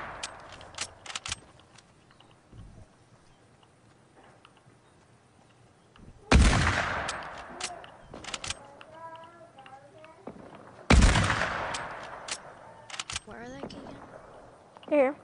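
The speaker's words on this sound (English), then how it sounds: "There's gunshots really close to me" Loud gunshots crack close by in a duos battle royale match, with two heavy bursts standing out among sharper scattered shots and faint background game sounds; no one talks.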